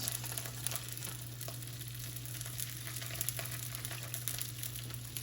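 Steady, close sizzling and crackling of chicken sausages frying in a hot skillet, with scattered pops over a constant low hum.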